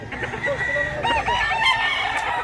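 A rooster crows nearby, a loud, wavering cock-a-doodle-doo over a background of other chickens clucking on a farm.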